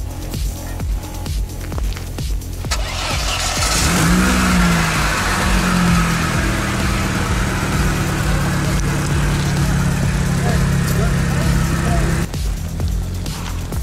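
A Lada Niva off-road car revs hard through mud and swamp, its engine climbing and holding a loud strained roar for several seconds before dropping back, close by, with voices nearby.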